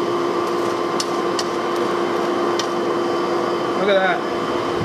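A coal fire in a homemade blacksmith forge roars steadily with a constant blower-like hum and a few faint knocks. A voice speaks briefly near the end.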